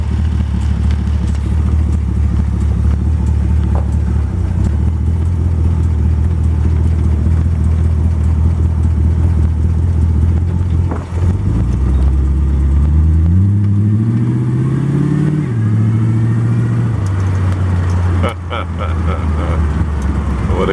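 A 1924 Ford Model T three-door touring street rod's engine runs steadily, close and loud, then rises in pitch as it is given a little gas and pulls away, with a few low voices over the idle.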